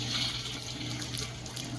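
Water running from a small barrel into an off-grid washing machine, a continuous close splashing, gurgling flow with a faint low hum underneath.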